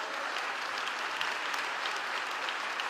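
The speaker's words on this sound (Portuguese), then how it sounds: "Alguém começou um aplauso, é para Jesus" A church congregation claps steadily and fairly softly during an evening service, a continuous even patter of many hands with no voices rising above it.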